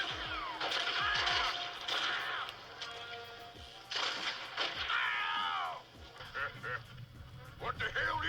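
Gunshots in the video game Red Dead Redemption crack out in several sharp bursts, with other game sound effects in between and someone talking over them.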